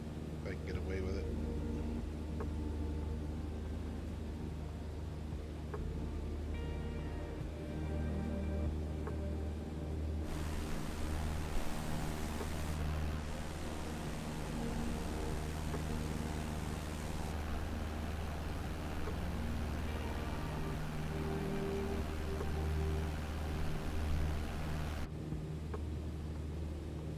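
Steady, droning engine of a Cessna 152 in Microsoft Flight Simulator, a low continuous rumble with broadband wind-like hiss that shifts in texture partway through, running under a voice talking.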